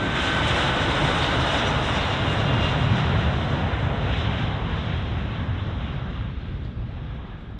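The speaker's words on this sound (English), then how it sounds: "Boeing 757-200 took off from Avalon, AVV, towards Auckland" A Boeing 757-200 airliner taking off from Avalon, its jet engines producing a loud, dense broadband roar that slowly fades.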